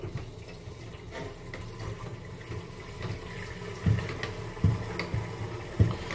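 A low, steady rush of water refilling a wall-hung toilet cistern after a leak repair, with occasional soft knocks and gurgles, close by and fairly quiet.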